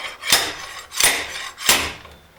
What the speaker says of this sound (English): take your slide hammer, slide it back